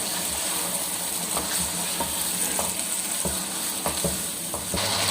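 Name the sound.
stir-frying chicken with potatoes and peas in a pot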